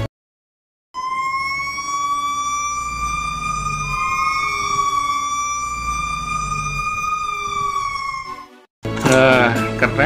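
A toy fire truck siren wails steadily for several seconds, fairly loud and close, then cuts off and a voice starts speaking.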